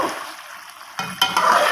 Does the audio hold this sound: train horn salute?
no